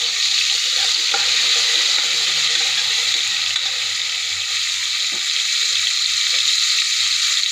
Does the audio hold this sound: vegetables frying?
yes